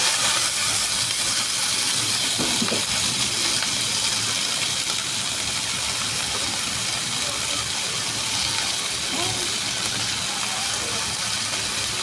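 Cluster beans fry in hot oil with a dense, steady hiss and sizzle that stays constant throughout, close and fairly loud.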